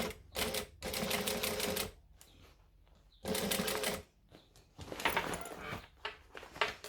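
A sewing machine stitches a vinyl bag with a waterproof lining in loud, close bursts of rapid needle hammering, pausing between runs and restarting several times.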